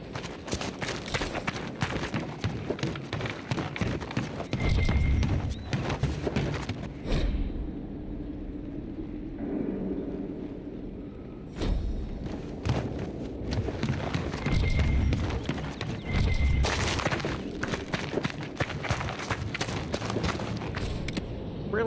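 Horse mount hooves in Dragon Age: Inquisition – Trespasser, a rhythmic clip-clop of a running gait carried on through most of the clip. It drops out briefly partway, then resumes, with a neigh and other game sounds in the mix.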